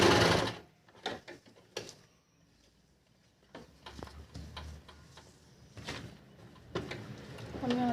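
A sewing machine stitches a salwar seam in short, separate bursts of clicking and whirring, each broken by quiet pauses, with a loud rustle at the start.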